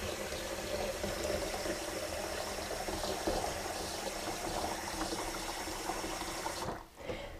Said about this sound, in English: So fill your container to the 2-liter mark, or the liter mark, whatever your container measures.